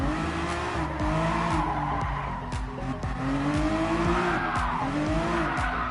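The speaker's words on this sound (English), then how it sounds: "Keep the drift on, we might be alright." A car drifting in GT Sport, its engine revving and dropping while the tires squeal and skid through long slides, loud and close, with no talking.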